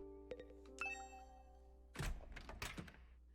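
A doorbell chimes at night in the video game The Hundred Line, two clear ringing tones over soft game music, followed by a burst of thumping, rattling noise.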